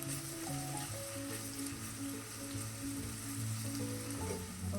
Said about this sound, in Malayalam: നമുക്ക് ഇഞ്ചി വെളുത്തുള്ളി ചതച്ചതും പച്ചമുളകും കൊടുത്ത് അതും ഈ എണ്ണയിലൊന്ന് മൂപ്പിച്ചത്